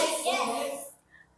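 Children in a classroom clapping together during a clap routine, a dense burst of hand claps mixed with young voices lasting about a second, then stopping abruptly.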